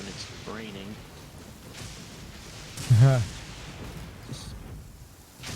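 Steady rain hiss in the Golden Soul video game, a soft continuous wash of noise with a deep booming thump midway and a voice talking over it.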